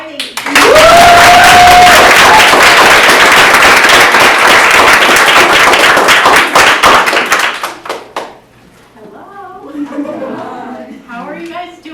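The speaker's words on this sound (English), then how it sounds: "please give some big applause for our first writer, Riley" A student reading night audience claps and cheers loudly for several seconds with a whistle rising over it, the applause fading out before the reader begins speaking.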